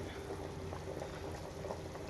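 A pot of chicken curry bubbles at a steady simmer, a soft continuous gurgling of liquid boiling close by with no speech.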